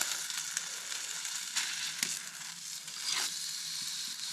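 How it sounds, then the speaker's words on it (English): A T-bone steak frying in a pan while camping out in the Alaskan wilderness in subzero cold, a continuous close hiss and crackle with occasional sharper pops and a scrape, no talking. "Cooking the old steak."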